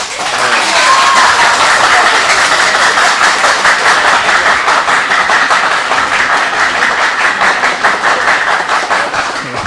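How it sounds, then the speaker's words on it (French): A crowd applauds loudly and continuously for a school team, with dense, steady clapping from many hands throughout. "pendant que vous applaudissez le lycée du 150e"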